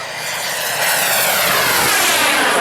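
An early-1950s jet fighter roars past at an airshow over Michigan, a loud, steady engine rush that builds and sweeps across the sky with no talk over it.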